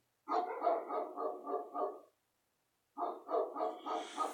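Dogs barking in rapid, repeated bursts for about two seconds, a pause of silence, then another run of barking, fairly close and loud.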